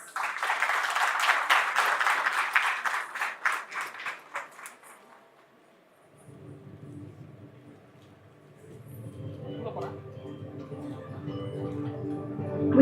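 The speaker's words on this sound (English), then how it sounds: "A huge round of applause, please." Lively applause from an audience at a business inauguration ceremony in Chennai, brisk and rhythmic for several seconds before fading out into a quiet low hum and soft tones.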